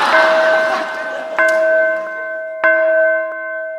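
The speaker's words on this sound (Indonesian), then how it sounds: "Nah itu lonceng tanda kalian berdua harus segera masuk kelas lagi." A school bell rings to signal class time, three loud struck tones with long, clear ringing decays, heard alone.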